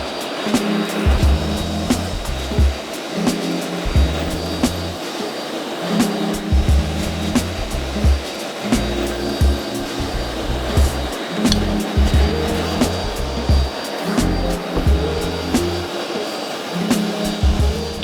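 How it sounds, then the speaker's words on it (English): A forge fire roars steadily and loudly while a steel stack heats in the flames, a continuous broadband rush with pulsing low rumbles and no voices. "We're gonna get this stack back into the fire."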